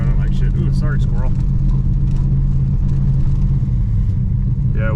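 A 1966 Pontiac Grand Prix barn find running poorly and smoking while driving, its engine giving a deep, steady low burble under people talking in the car.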